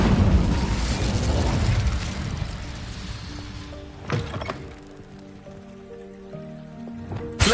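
Incendio fire spell in Hogwarts Legacy, a loud crackling burst that fades into softer debris and pops, with a sharp whoosh midway and another abrupt hit at the end.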